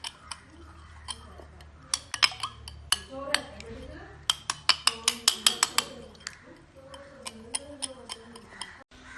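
Chicken pieces mixed in a bowl for homemade fried chicken, with sharp spoon-on-bowl clinks and taps in irregular bursts, close and crisp, while a voice talks between them.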